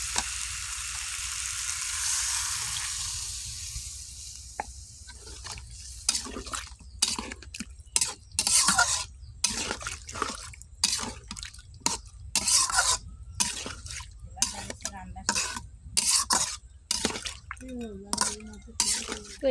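Meat frying in oil in a pot gets stirred with sour yogurt for a biryani, steady sizzling giving way to repeated close scraping and stirring strokes with wet clatter; no one talks.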